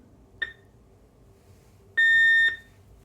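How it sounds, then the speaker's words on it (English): A Heathkit PT-1500 darkroom timer sounds its error beep after an invalid key press: a short click-like blip, then a loud, clear electronic tone lasting about half a second, close up and otherwise quiet. "Pressing a key that's not valid at any time will produce a beep."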